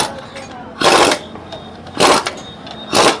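A 10 mm socket wrench tightening the clutch spring holder bolts on a TVS Apache motorcycle, giving three loud, close ratcheting bursts spaced about a second apart over faint workshop background.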